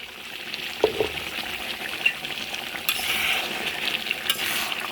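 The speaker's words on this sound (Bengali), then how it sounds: "তরকারিটা একটু কষায় নিছি।" Curry being stir-fried and reduced in a home kitchen pan, steady sizzling with scraping stir strokes and a few sharp clinks, close and continuous, a little louder in the second half.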